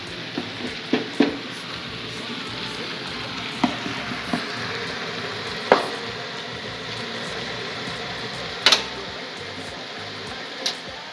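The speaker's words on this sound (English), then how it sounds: "Now we are going to remove and cook our onions." Onions frying in a little oil in a pan for Kenyan kebabs, a steady close hiss of sizzling with a few sharp crackles and pops scattered through it.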